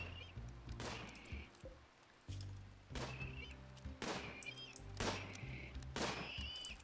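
Faint gunshots in the colony game Rimworld, with sharp cracks repeating at roughly one-second intervals over a low, steady game soundscape.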